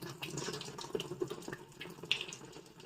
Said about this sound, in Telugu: ఇప్పుడైతే నేను ఈ వాటర్ని ఫిల్ చేసుకోవడానికి ట్యాప్ని అయితే తిప్పాను